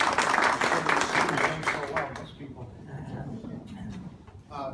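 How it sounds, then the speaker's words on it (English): A small audience at a medical practice event claps warmly for a few seconds, then the applause fades quickly into quieter room noise. "let's give a warm round of applause for Dr. Lavadia"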